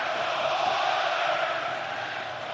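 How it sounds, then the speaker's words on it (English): Arena crowd in NHL 24 at game six of the Stanley Cup Final, Florida Panthers vs Edmonton Oilers, packed to standing room only: a steady, dense roar of many voices that holds level throughout without pause. "This crowd is ready, standing room only."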